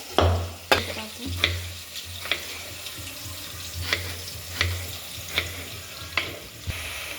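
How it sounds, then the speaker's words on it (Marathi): Steady frying sizzle of egg biryani ingredients browning red in a pan, punctuated by a series of sharp scraping clicks from a spatula stirring at irregular intervals, close and fairly loud. "असा लाल तळून घ्यायचा"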